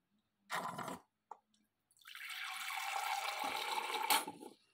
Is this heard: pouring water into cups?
yes